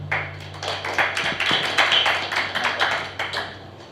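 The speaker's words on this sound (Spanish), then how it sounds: "Recibamos con un caluroso aplauso." A small audience at a talk on volcano monitoring claps, with a scattered run of sharp, irregular handclaps heard fairly close in a quiet room.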